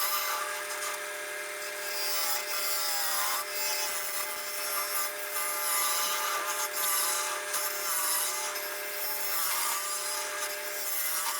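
Steady close scraping and hissing of a chisel cutting into a wooden cup spinning on a lathe, a continuous even drone with no talking.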